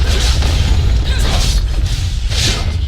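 A turret collapsing in League of Legends in the bottom lane: loud, dense booming and crashing game effects with whooshes and bursts that sustain throughout.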